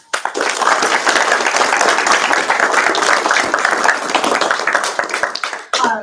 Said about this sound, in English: Now let's give them another round of applause.